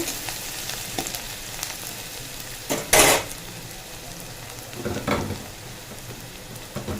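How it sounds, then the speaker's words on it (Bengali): Onions fry in a pan until reddish with a steady, close sizzle and crackle. A louder burst and occasional clinks of stirring break through, with no talking. "পেঁয়াজটা একটু লাল লাল করে ভেজে নেব"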